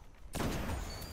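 A single loud gunshot from the video game Destiny bursts in abruptly and rings on in a sustained, noisy roar.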